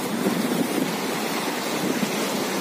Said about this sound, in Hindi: ये देखिए यहाँ टोटल पानी फ्लो कर रहा है